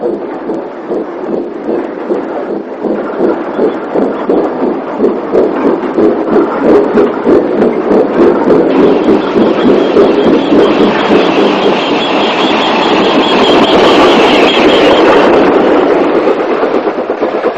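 A long pickup goods train on the Cardigan branch railway, its wagons rumbling past in a steady, loud rolling rhythm of repeated wheel beats that grows slightly brighter toward the end, with no voices.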